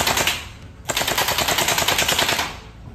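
Electric SLR gel blaster rifle firing fast, sustained automatic bursts, loud and close, with a brief break near the start before the rapid rattling resumes and runs on steadily.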